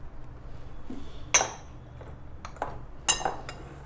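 Dry flour, cinnamon, nutmeg, cloves and baking powder being stirred in a bowl for ginger cookies, with a soft scraping underneath and two sharp clinks of a utensil against the bowl, close by with no talking.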